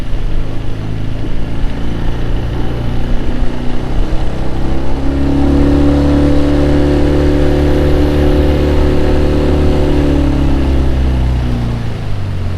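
A loud, steady boat motor hum with a low, even drone runs throughout, its pitch rising and settling slightly in the middle, on a blue crabbing trip.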